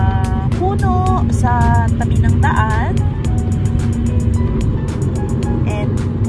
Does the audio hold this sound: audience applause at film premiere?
no